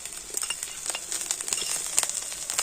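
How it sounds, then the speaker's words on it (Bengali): Chopped ginger and green chillies frying in oil, a close crackling sizzle broken by quick bursts of spatula scraping and stirring. "দেখুন আদা কাঁচা লঙ্কাটা একটু ভেজে নিয়ে"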